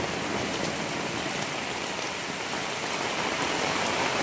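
Heavy rain from Typhoon Emong under storm signal number 4 pours down in a dense, unbroken roar, loud and steady throughout, with no voices heard.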